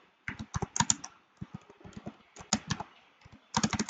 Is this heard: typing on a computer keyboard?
yes